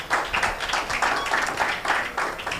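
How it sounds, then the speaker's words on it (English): Audience at a leadership and entrepreneurship summit applauding after an award speech, dense clapping swelling in waves, close and moderately loud. "Please, a round of applause."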